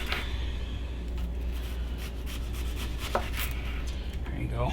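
Knife slicing a red onion into thin rings on a cutting board for a blue cheese bacon burger, a steady run of soft cuts under a constant low hum, with one sharper chop near the end and no talking.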